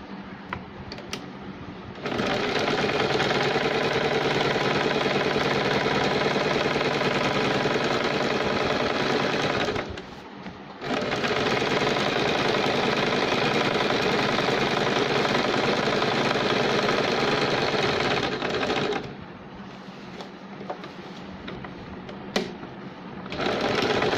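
A sewing machine stitches a collar onto a baby girl's shirt in long, loud, steady runs of rapid mechanical whirring, stopping briefly twice between bursts, close up with no talk.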